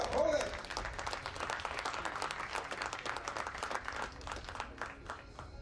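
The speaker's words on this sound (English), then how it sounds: "So come on, with your applause, everybody." An audience at a trap shooting competition applauds in a steady, moderate ripple of clapping that lasts several seconds, with faint crowd murmur underneath.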